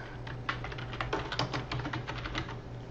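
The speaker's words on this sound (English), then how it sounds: "You just start typing and it'll replace it." Steady typing on a computer keyboard, a fast run of close, crisp key clicks with no talk over them.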